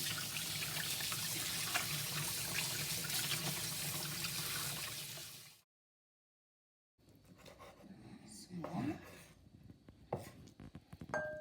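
Tap water runs into a kitchen sink for vegetables that were soaking, a steady splashing flow that cuts out, then returns as softer trickles and drips.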